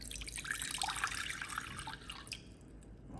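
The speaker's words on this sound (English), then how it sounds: "in a pot, you're going to pour in 2 cups of water" Two cups of water splash and trickle steadily into a pot for a few seconds, close and moderately loud, then taper off.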